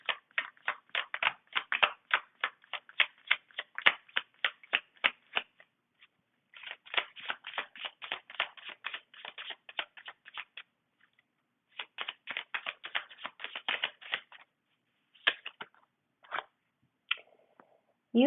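Crisp, rapid riffling of tarot cards in repeated bursts, each run of quick papery flicks broken by brief pauses and a few single card snaps as cards are drawn, close and quiet with no talking.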